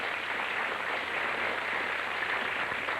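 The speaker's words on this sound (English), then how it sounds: "Give him a round of applause." Sustained studio audience applause on a 1992 Blockbusters game show, a dense, even wash of clapping hands holding steady throughout with no voices over it.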